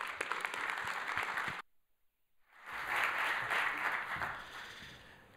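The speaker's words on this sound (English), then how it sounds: "If you can give him a welcome applause," A conference audience at a security event applauds to welcome a speaker, dense clapping that breaks off into near silence for about a second, then swells again into a second sustained round of applause, with no voices heard.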